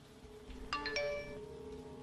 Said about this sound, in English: It was the chime of an iMessage notification, and it came from the second floor.